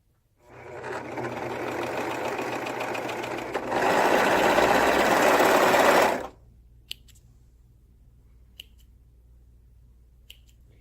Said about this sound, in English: So I'm just going to sew the shoulder seams